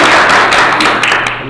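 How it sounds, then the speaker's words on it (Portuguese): Studio audience claps and cheers for a seminarian guest on a podcast set, a dense steady burst of applause lasting throughout, fairly loud and close. "uma salva de palmas para o nosso seminarista João Vitor"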